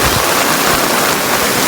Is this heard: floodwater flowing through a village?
yes